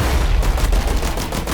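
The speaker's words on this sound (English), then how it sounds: "We need to charge laser cannon and use it to actually shoot down the guy." Loud, sustained barrage of rapid weapon fire in Blast Brigade during a boss battle with a laser cannon, with dense repeated blasts continuing without pause.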